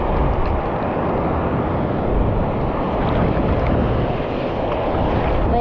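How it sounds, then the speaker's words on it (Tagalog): Big waves and strong wind at sea make a loud, continuous roaring rush that buffets the microphone throughout. "Malaki ng alon."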